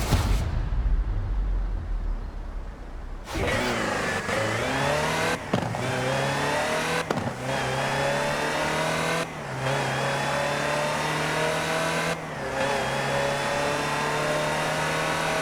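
A Land Rover Series III revs hard in Forza Horizon 4, its engine note rising and holding steady, broken by several brief gear-shift dips. It is loud and close, with no talk over it.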